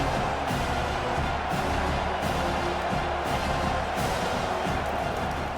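A college football stadium crowd at a Northwestern versus Penn State game roars steadily behind the defense on a big third down, a dense, even wash of cheering noise throughout.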